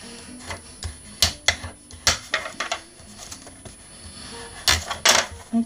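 Paper folds on a fan-style pop-up card being creased and pressed: a run of crisp, close clicks and rustles in irregular bursts, with a couple of louder crackles near the end.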